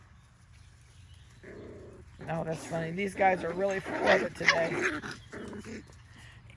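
Schnoodle puppies playing chase with a toy, giving short yips, whines and small growls in bursts close by, while a person talks and laughs over them.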